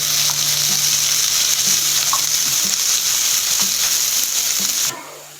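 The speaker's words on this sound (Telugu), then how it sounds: "సో ఇప్పుడు మనం ఆనియన్స్ వేసుకుందాం ఇందులో. దీన్ని గోల్డెన్ బ్రౌన్ కలర్ ఎక్కువ ఫ్రై చేసుకోవాలి" Onions fry in oil in a pan for an egg biryani with a loud, continuous, close sizzle and faint stirring taps. The sound cuts off sharply near the end, and no one speaks.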